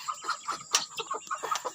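A brooding hen sitting on a clutch of eggs clucks close by in short, repeated bursts with a steady, uneven rhythm, and no voices are heard.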